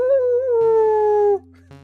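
A dog in the video game You Will (Not) Remain lets out a sustained, wavering howl that drops off abruptly, followed by a softer tonal note, close and clear.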